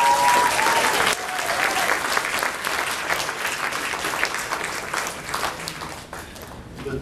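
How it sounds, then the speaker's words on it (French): Audience applause at a French-language YouTube creators' talk, a dense wash of many hands clapping that holds steady, then thins and fades toward the end. "Donc, une bonne main d'applaudissement à tout le monde."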